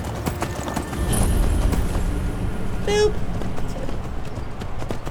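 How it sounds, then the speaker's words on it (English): Horse hooves clip-clop on the ground in Skyrim, a steady rhythmic patter of footfalls close by under ambient game noise, with a brief synthetic chirp partway through. "My horse really shouldn't be down here, and now he's gonna go run back up"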